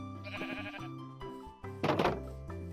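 Blocky sheep in a Minecraft 1.18 survival world bleat several times over a game music bed, with a louder, closer bleat near the end.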